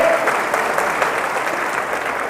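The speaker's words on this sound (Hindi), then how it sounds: "अरे ताली तो बजाओ इस बात के लिए" A crowd applauding at a political rally in Bulandshahr, India, a loud, dense, continuous burst of clapping from many hands close by, steady throughout.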